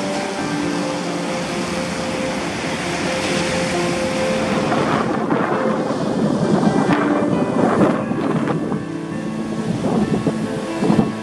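Offshore wind buffeting the microphone over breaking surf on the Sea of Japan on a spring morning, a steady loud roar of wind and waves throughout with gusts growing stronger toward the end.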